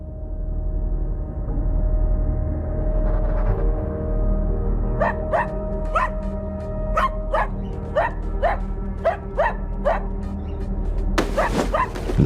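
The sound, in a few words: dog barking repeatedly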